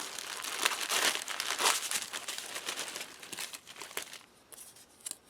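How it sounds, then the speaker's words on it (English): A plastic Ziploc bag from a Latvian field ration accessory packet is pulled open and handled up close. The rustling and crinkling comes in quick bursts, then thins out toward the end. No one speaks. "If we could open the simple Ziploc bag."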